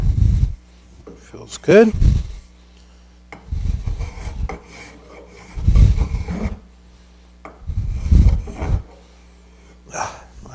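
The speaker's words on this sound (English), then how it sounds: "Like a fine rasp and then a file." A fine rasp and then a file shape a wooden furniture leg in four or five separate rough scraping strokes, each a second or so long with quiet gaps between, and someone speaks briefly.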